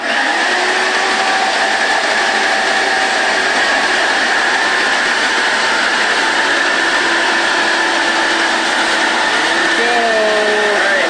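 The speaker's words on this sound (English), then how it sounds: "we split the drill presses up here, so you each have your own drill press" Several drill presses running at once in a workshop, a loud continuous motorized whine and hum with shifting tones and squeals as bits cut, steady throughout.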